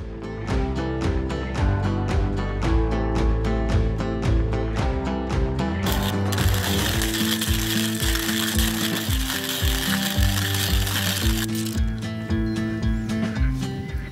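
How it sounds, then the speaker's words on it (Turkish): Coffee beans crunch through a grinder for filter coffee in a steady, continuous, close-up rasping churn that runs without a break. "Getirdiğim çekirdekleri öğütmeye başlıyorum."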